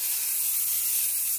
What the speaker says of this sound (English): I feel like I just sprayed paint thinner on my face.